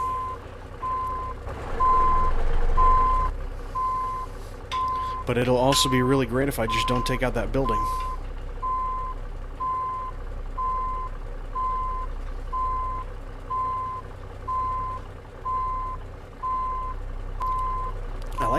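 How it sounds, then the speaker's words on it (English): A steady high reversing beep repeats at an even pace for the whole stretch as a day-cab truck backs in between parked cars and a building, with engine rumble underneath and someone talking over it. "Try to back her in over there next to those cars, between the cars and the building."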